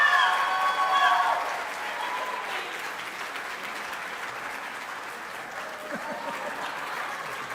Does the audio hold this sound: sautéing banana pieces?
no